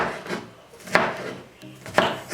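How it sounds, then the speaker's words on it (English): Sweet pepper being rough-chopped with a knife on a cutting board for a vegetable soup, with two sharp knife strikes against the board about a second apart, close and clear, over a faint scraping background. "now I'm chopping up my sweet pepper, just rough chop"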